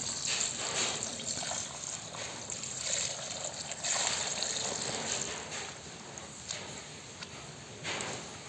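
Water is poured into a large vessel to soak freshly cut bamboo until it is fully submerged, making a steady rushing splash that lasts throughout at close range.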